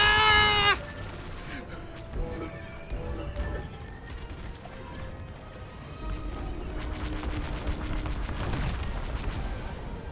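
A capital cruiser is destroyed in the starfighter game Star Wars: Squadrons, opening with a sharp, bright burst and then a long, low, rolling rumble of explosions and debris, with faint voices under it.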